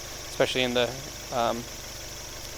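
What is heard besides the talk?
Subaru EJ20 boxer engine rumble, 2003 Legacy 2.0GT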